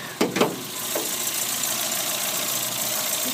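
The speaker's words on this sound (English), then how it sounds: "I was running on a little bit of a high idle here with the choke" A cold 1973 Volvo 142 with its 2-liter engine and single Stromberg carburettor runs at a fast idle on the choke, a steady close engine hum with a few sharp knocks near the start.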